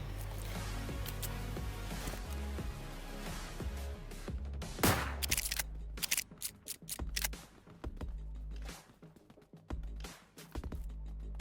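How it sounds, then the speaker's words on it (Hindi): Gunfire in a battle royale shooter game: dense bursts of rapid shots and sharp cracks, some close and loud, others distant, over a continuous low rumble of game ambience. "बहुत फायरिंग की आवाज़ आ रही थी।"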